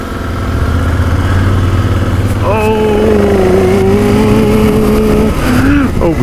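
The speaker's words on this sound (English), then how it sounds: "At least this bike will start with the kickstand down." An adventure motorcycle engine on a forest trail fires up and settles into a loud, steady idle with a wavering tone, with brief revving swells near the end.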